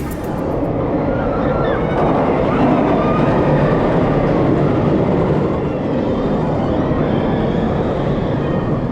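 A loud, continuous rumbling roar of roller coaster trains moving on a track at Parc Astérix, steady and close, with a faint mechanical whine and no clear voices.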